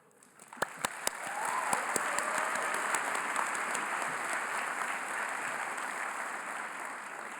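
Applause from a graduation ceremony crowd swells into a broad, sustained wash of clapping, with a few sharp claps standing out at the start, distant and steady throughout.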